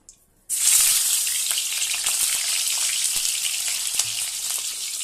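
Potatoes going into hot ghee for a vegetable pulao burst into a loud, bright sizzle after a brief quiet start, then crackle steadily and close up to the end.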